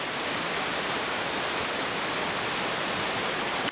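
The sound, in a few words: creek water flowing at Minnehaha Falls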